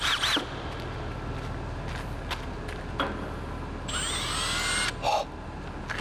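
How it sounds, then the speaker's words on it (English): A power drill with a large, slightly dull bit whines and grinds through material in bursts, with a higher squealing stretch near the end, close by and fairly loud. "I'm gonna open it up with this last big drill bit"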